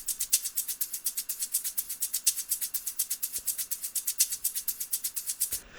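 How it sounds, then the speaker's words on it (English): A shaker loop from the Bound to Divide sample pack, made for melodic house, plays a crisp, even stream of rapid shaken hits, about seven per second, with a slight accent pattern, heard alone and close. "Then I have my shaker here."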